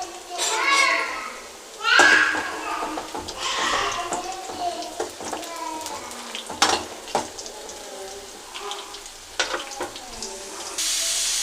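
Dried red chillies and curry leaves sizzle in hot oil in a pan, a steady crackle beneath frequent talking and a few stirring clatters.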